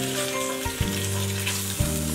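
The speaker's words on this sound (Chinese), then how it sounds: "热锅凉油，姜蒜爆香，下五花肉" Pork belly frying in hot oil with ginger and garlic in a wok, a steady close sizzle with low sustained hum and a couple of soft stirring knocks.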